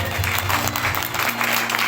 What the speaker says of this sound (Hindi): जोर से एक बार ताली बजाइए